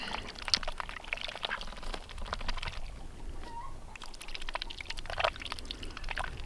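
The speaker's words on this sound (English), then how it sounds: "If I put them in water, and they can slurp them out of the water." Khaki Campbell ducks slurp and dabble greens out of water on a winter morning, making wet, splashy sips and bill clatter close by, with a few soft quacks.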